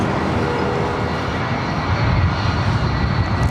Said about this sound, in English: Delta Airlines flight 2075 heading to Minneapolis at a 757-200.